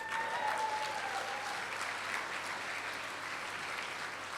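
An audience at a ball applauds during an ambassador's speech, a steady wash of clapping from a sizeable crowd, moderately distant and even throughout.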